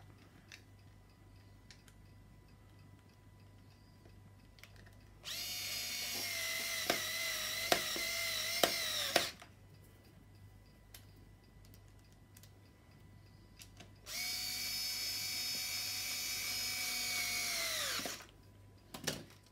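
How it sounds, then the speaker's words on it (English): A power drill drives screws back into the front wheel assembly of an Uppababy Vista stroller, in two sustained whirring bursts of about four and three seconds, with a few clicks between them, close and fairly loud against a quiet background. "Screw the screws back in."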